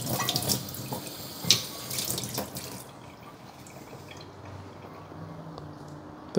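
Tap water runs and splashes onto a Darto carbon steel pan being washed in a sink, a busy splattering with a few sharper drips early on that settles into a softer steady flow.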